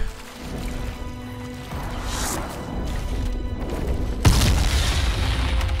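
A dragon in the video game Dragon Age Inquisition hurls fireballs, heard as rumbling booms and whooshes that build into a sharp crashing impact followed by a sustained loud roar.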